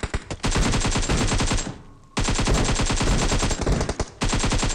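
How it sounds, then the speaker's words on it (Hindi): Automatic rifle fire in the mobile battle royale game PUBG Mobile, loud rapid bursts of rattling shots with one short pause between volleys, then more sustained firing. "मैं नंगू को डराया 2-3 गोलियां मार के ताकि उसका टीममेट उसकी हेल्प करने आए"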